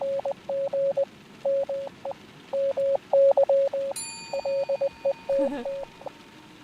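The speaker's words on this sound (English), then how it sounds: "Are they gonna make me do Morse code?" Morse code tones in the video game Letter Lost keep beeping in short and long pulses of one steady pitch. Partway through, a high ringing chime and a short wavering electronic tone join in over the beeps.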